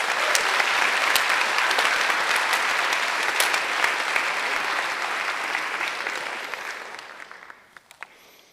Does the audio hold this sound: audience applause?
yes